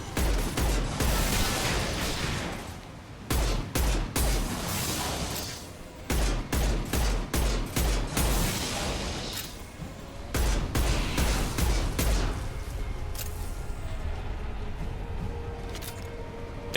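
Heavy gunfire from the Mass Effect 2 video game, loud bursts of rapid automatic shots in repeated clusters with short gaps, continuing as a dense rumble of combat noise toward the end.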